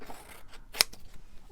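A single sharp snip of red scissors cutting through paper, one crisp bright click in a quiet room with faint rustling around it.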